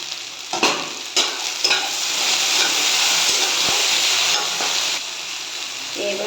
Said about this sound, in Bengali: কেটে রাখা আলু আর কচুগুলো এর মধ্যে দিয়ে একটু ভেজে নেব, হালকা করে ভেজে নেব।